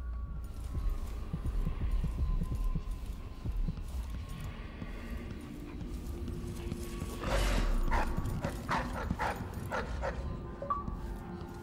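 Dogs locked in a cage in the video game Dishonored 2 bark in a quick run of sharp yaps and yips, mostly in the second half, over a rough rumbling background.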